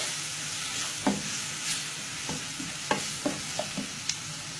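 Mutton masala with curry leaves and garam masala sautéing in a pan, a soft continuous sizzle with several distinct scrapes and taps of a spoon stirring, close and unaccompanied by speech.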